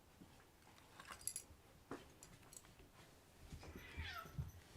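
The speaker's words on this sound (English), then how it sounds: "And that was the cat." A rescued cat meows faintly in a quiet indoor room, giving a few short, soft calls spread across the moment, with no talking.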